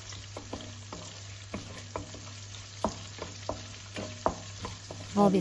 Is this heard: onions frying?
yes